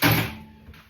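A back door is pushed shut with keys being removed from it: a single close, solid thud near the mic, followed by a fainter rattle and settling.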